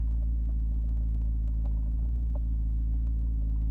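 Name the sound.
McLaren car driving with swapped engine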